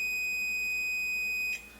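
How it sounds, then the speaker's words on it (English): A continuity tester emits a steady, loud, high-pitched beep while its probes touch an intact thermal fuse from a steam mop. The tone holds for about a second and a half, then cuts off sharply. "If this fuse is good, the alarm will sound."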